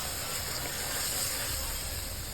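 Sardine masala boiling in a covered pan gives off a steady, even hiss and bubbling, continuous and close with no pauses.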